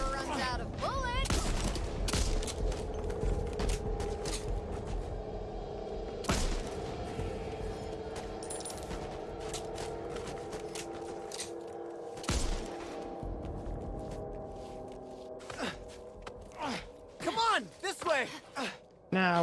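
Gunfire in the zombie shooter Back 4 Blood, a string of sharp, scattered shots and bursts with pauses between them, some louder cracks standing out, heard alongside someone talking.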